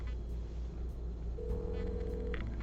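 An outgoing phone call in the adventure game Kathy Rain 2 plays a single steady ringback tone at moderate volume over a quiet low hum, with faint ticking in the background.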